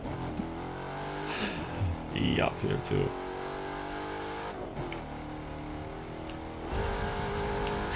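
Monster truck engine in the video game The Crew 2, a steady loud drone with revving swells, heard under a voice talking.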